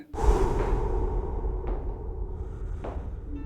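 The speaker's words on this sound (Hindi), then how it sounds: "धीमी धीमी सांसों की आवाज भी आती है" Slow, heavy breathing close up, with long drawn inhales and exhales and a couple of soft airy swells, alone without any talking.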